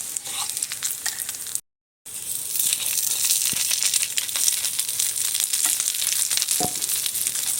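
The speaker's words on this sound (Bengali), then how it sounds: "আবার এই দুটো আমি ভেজে নেব এইভাবে।" Stuffed bread slices frying in a pan of hot oil, a loud continuous crackling sizzle with a very brief break, no talking.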